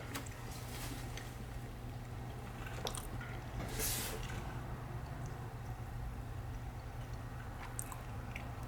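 Close, quiet chewing of King Oscar spicy cracked pepper sardines, with soft wet squishy bites and smacking over a steady low hum, no talking.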